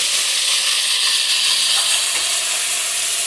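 Potato pieces frying in hot oil with turmeric added, a steady, loud, continuous sizzle and hiss close by with faint stirring, no voices.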